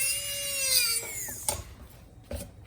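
A high-pitched dental drill whines as it trims a denture tooth for a mandibular posterior set-up. The whine winds down after about a second, and two brief grinding contacts follow.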